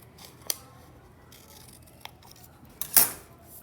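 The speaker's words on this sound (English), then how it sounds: "So I'm gonna cut some triangles" Scissors snipping paper triangles for a children's crayon collage, a few sharp separate cuts spread out and close by, the last one longer and louder, with no talking.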